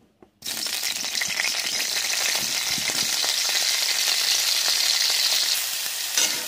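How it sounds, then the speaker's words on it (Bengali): Cauliflower florets go into hot white oil in a kitchen, and a sudden, loud, sustained crackling sizzle bursts in after a short quiet start. Scattered spatters and stirring rattles run throughout with no talk. "আমার তেলটা গরম হয়ে গেছে, ওর মধ্যে কপিগুলোকেও দিয়ে দেব।"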